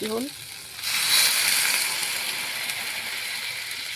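Broth poured into a hot pan of fried taro and spices, setting off a loud, steady sizzle that swells suddenly and then holds as a bubbling hiss, preceded by a brief clink at the start.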